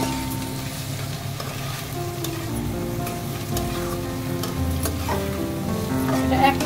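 Chopped tomato, onion and green chili fry in a pan with a continuous sizzle, punctuated by occasional stirring scrapes, close and steady with no talking.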